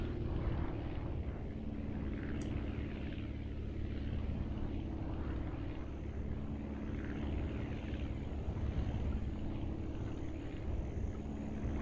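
A constant, droning aircraft engine from the flight-building game Aviassembly holds an even, unbroken hum at moderate level throughout, with no speech.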